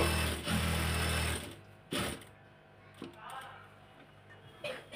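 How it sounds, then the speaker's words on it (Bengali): A sewing machine stitches fabric in a short, loud whirring run, then falls to scattered clicks and a brief second burst, heard close with no talking. "এখন এই যে সেলাই দিয়ে দিব।"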